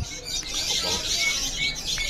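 A white canary at a bird shop chirps and tweets continuously, its bright calls sitting close against a steady background hum.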